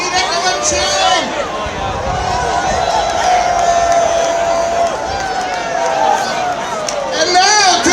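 A festival crowd at a Downtown Kitchener Canada Day event cheers and hollers steadily with loud babble, swelling near the end.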